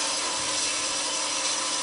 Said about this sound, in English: So electric bandsaw